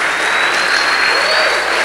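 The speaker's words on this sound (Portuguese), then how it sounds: "Pode aplaudir Jesus." A church audience applauds, a brief, loud, dense burst of clapping that fills the room without a break.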